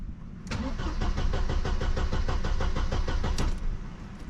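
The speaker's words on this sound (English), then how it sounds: "Let's see if the car wants to crank and spark this time." A barn-find classic car's starter cranks the engine in a fast even rhythm for about three seconds without it catching, close and loud, then stops.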